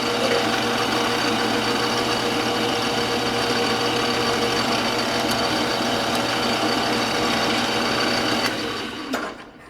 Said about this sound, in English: I'll take the rest out with the boring bar.